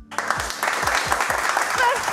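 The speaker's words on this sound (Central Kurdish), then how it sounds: "یەک چەپڵەی تر ئەنجا ئەگەڕێمەوە." Studio audience applause on a Kurdish television show, dense steady clapping over a low rhythmic thumping beat, loud and sustained throughout.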